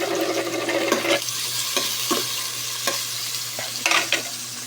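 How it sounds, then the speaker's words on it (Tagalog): A large amount of garlic and onion sautés in a pan with a steady sizzle while a utensil stirs it in periodic scraping strokes. No one talks. "Ayan, sabay na natin itong maraming bawang at sibuyas."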